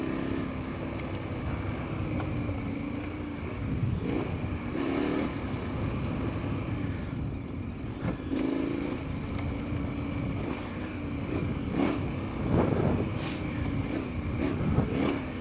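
A KTM 1090 Adventure R motorcycle rides steadily, its engine droning loud and close with wind noise and a few rises in revs throughout.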